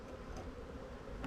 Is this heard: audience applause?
no